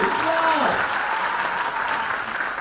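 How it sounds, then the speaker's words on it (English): Audience applause at a book fair event in Mogadishu, a dense steady clapping from a large crowd that fills the space, with a voice calling out over it near the start before the clapping slowly thins. "Please clap for this man."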